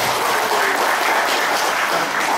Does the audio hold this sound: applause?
yes